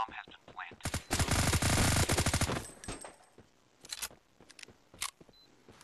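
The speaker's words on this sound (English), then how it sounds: "Oh crap, I accidentally shot." Burst of rapid automatic gunfire in the mobile shooter game Forward Assault, a dense loud volley lasting about a second and a half, followed by scattered single shots and clicks with a voice talking over parts of it.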